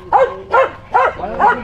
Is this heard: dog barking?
yes